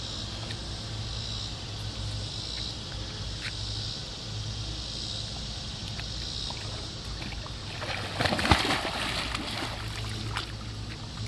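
A swimmer climbs into pool water, and a brief splash near the end rises above a steady wash of water and ambient noise.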